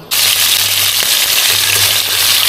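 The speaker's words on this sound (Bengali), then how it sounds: "এবার আমি চিংড়ি দেব তেলে" Shrimp drop into hot oil and set off a loud, continuous frying sizzle that starts abruptly and hisses steadily to the end.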